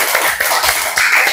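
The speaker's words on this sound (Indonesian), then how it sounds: "Beri tepuk tangan buat kelompok 1" A class of students claps for the first group coming forward to present in a coding lesson. The clapping is loud and uneven, with scattered sharp hand claps rising and falling over a little more than a second.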